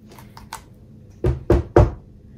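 Three firm knocks land on a door in quick succession, preceded by a few lighter taps, close and distinct with no voices.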